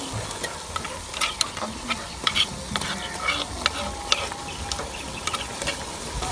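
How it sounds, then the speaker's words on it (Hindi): Garlic and green chili paste being stirred and fried in a kadhai for aloo palak, a steady sizzle with scattered scraping clinks of the spoon against the pan, close and continuous with no talk. "इसको भी 1 मिनट के लिए फ्राई करेंगे।"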